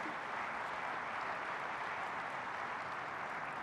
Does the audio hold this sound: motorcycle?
no